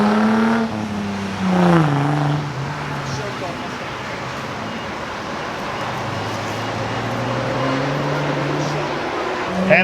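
Street cars racing on a track at the Carlisle Ford Nationals, an engine revving and accelerating with rising and falling pitch sweeps, moderately loud under a commentator's voice.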